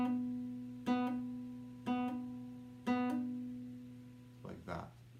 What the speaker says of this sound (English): the way that we do that physically on the guitar is that we come back and we pluck